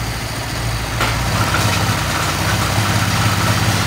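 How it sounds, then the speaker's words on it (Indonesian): A Honda Vario 125 Fi scooter idles steadily close by after its water pump has been replaced, a continuous low engine hum with a faint regular pulse that runs unchanged from start to finish with no voices over it. "motor menyala dengan baik."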